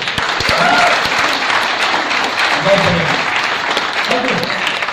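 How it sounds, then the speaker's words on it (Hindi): Enthusiastic audience applause at a Safe Shop core training session, loud sustained clapping throughout with voices briefly audible beneath it. "जोरदार तालियां होनी चाहिए"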